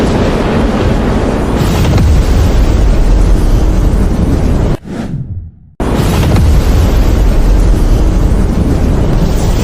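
A thunder-strike sound effect in an animated fantasy drama, a loud roaring rumble that fills the whole span, cuts out for about a second, then crashes back in just as heavily.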